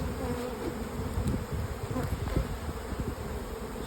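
Dense honeybee buzzing from two stacked hives, top and bottom, with pollen-laden foragers returning; a steady close drone fills the whole few seconds with no talk.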